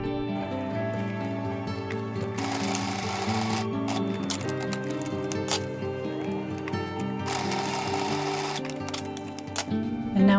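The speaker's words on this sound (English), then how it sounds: "I'm just taking the corners and lining those up with the top hems and sewing a straight stitch" A sewing machine runs a straight stitch along the top hems of a thrifted project, with a steady mechanical hum and rhythmic clatter. Two brighter stretches of whirring break up an otherwise continuous run.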